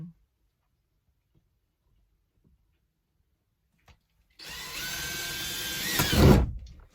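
A power drill bores into an RV wall: silence for several seconds, then a sudden loud, close whine that holds steady, rises briefly in a strained surge and cuts off.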